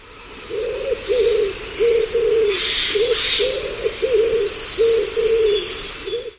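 A wood pigeon coos in a repeated rhythmic phrase of soft, hooting notes, loud and close, with other small birds chirping faintly in the background.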